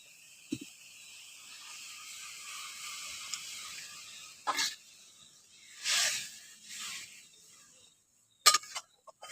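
Water is poured into a hot pan of fried pointed gourd, giving short hissing sizzle bursts that fade between pours, with a few louder spurts near the end and no talking.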